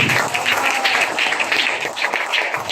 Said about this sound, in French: De fortes acclamations pour le Seigneur.